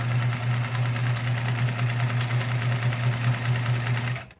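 A Singer 306 sewing machine running at full throttle, a steady rapid mechanical whir with a strong low hum and even stitch clatter throughout, close and loud, cutting off at the end.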